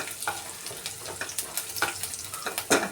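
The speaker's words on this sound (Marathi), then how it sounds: "जिरे फुलले की त्याच्यामध्ये लसूण टाकायचा." Garlic and cumin seeds frying in hot oil for Maharashtrian methi bhaji, a steady close sizzle with scattered pops and crackles and a few sharper spits near the end, no voices.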